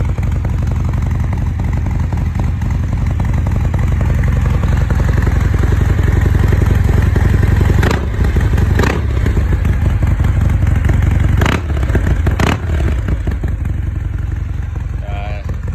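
A modified Harley-Davidson Fat Bob 114 motorcycle engine runs loud and close with a deep, throaty, steady rumble, broken by a few brief sharp clicks partway through.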